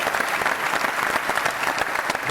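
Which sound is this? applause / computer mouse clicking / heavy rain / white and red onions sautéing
applause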